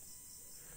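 Cricket chirps for a sound effect, a steady high insect trill that runs continuously and fairly evenly over a faint background, with no voices.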